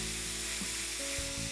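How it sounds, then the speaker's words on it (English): Food sizzles steadily in a hot frying pan, a close, continuous hiss and crackle with a few soft clinks. "As long as I keep hearing that sizzling noise"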